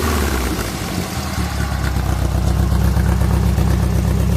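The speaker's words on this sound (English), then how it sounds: "steel buggy exhaust is louder, definitely louder than the conventional glass packs" A buggy engine with a stainless steel exhaust idles and runs steadily nearby with a loud, throaty exhaust rumble that grows slightly stronger over time.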